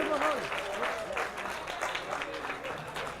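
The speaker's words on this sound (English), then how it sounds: "Ladies and gentlemen, a nice round of applause." Wedding guests applauding at a Hammock House reception in Wekiva, Florida, a soft rippling clap from a modest crowd heard at a distance, with a speaker's voice carrying over the top.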